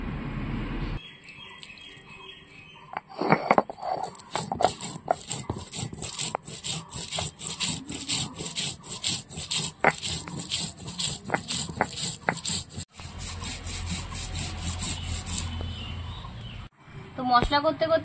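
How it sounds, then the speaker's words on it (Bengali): Rhythmic scraping and grinding of whole coriander, cumin, ginger and garlic into paste, likely on a grinding stone, in repeated close strokes over most of the stretch, with a few knocks and a short pause near the end. "এবার বেটে নেব কিছুটা গোটা ধনে আর একটু গোটা জিরে, আর এর সঙ্গে দিয়ে দেব আমি আদা রসুন,"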